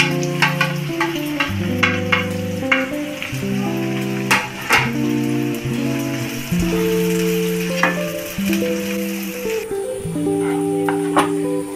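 Three finely chopped onions fry in hot oil over a high flame, producing a loud, steady sizzle with occasional stirring clicks over soft background music.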